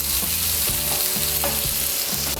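Chopped onion frying lightly in oil in a pan for Dhaba-style chicken bharta, a loud, steady sizzle with rhythmic stirring scrapes throughout and no voices.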